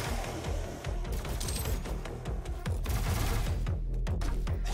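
Rapid gunfire sounds throughout in the video game Doom 2016, dense repeated shots over a loud, steady mix of game sound.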